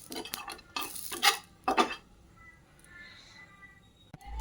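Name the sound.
roasting grated coconut and sesame seeds in a pan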